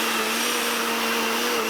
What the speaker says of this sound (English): you put them in the blender and you add oil